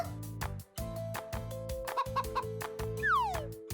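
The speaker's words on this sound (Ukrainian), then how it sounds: "Де тут найгарніша курочка?" Cartoon hen clucking in a Ukrainian children's animation, a run of quick bright clucks over bouncy background music, ending with a rising squeaky effect.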